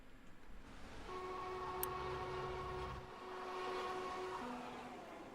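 A small hydrogen-powered train arrives in a steady rumble, with sustained tonal whine and hum through most of the passage, a brief high squeal near the start, and the tone dropping as it settles.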